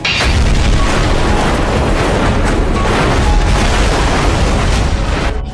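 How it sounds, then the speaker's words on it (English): A loud, sustained roaring blast with rumbling low end, a United Airlines Flight 1175 engine exploding on the right wing after a broken propeller, continuing heavily for several seconds before cutting off. "there was a huge explosion on the right wing of the plane"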